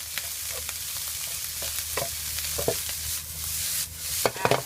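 Spatula scraping and tossing salted-fish fried rice in a hot wok, irregular clanks and stirs over a steady sizzle, close by, no talking.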